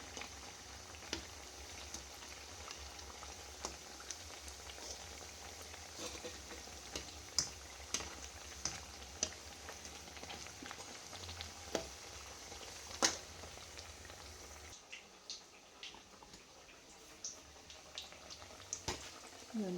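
Onion slices frying in hot oil until reddish, a low continuous bubbling sizzle with scattered sharp pops and crackles, quieter over the last few seconds.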